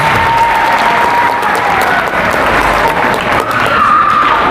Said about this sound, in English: Big round of applause for our class.